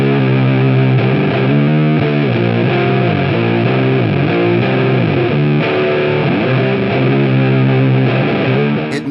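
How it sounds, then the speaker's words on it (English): Electric guitar played through a WORF one-knob distortion pedal, a loud, thick, sustained overdriven riff with shifting notes running throughout, played alone without talk. "The distortion in this setting is"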